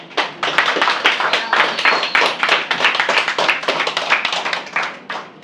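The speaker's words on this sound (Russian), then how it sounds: "И аплодисменты." A small audience at a staged performance evening claps steadily for the performers, with sharp, close, distinct hand claps rather than a dense roar. No talk is heard.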